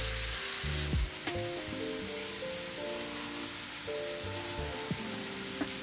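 Shrimp sizzle steadily and loudly in a hot pan, a dense rain-like frying hiss with scattered crackles and pops running throughout.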